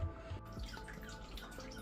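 Water poured from a bucket into the intake pipe of an FX6 canister filter, a faint continuous trickling and splashing with small gurgles, steady throughout and free of talk.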